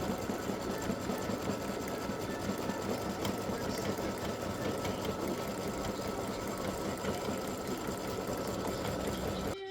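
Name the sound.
embroidery machine stitching black butterfly outline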